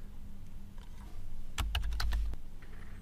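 A short burst of quick keystrokes on a computer keyboard, close and fairly soft, against a quiet background hum.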